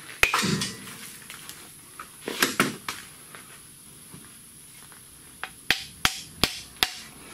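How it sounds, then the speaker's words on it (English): Sharp metallic hammer taps on the rear CV axle of a 2003-2006 Ford Expedition, a few scattered then a quick run of four or five evenly spaced hits, close and ringing briefly. "A little tap tap with the hammer and we're home free"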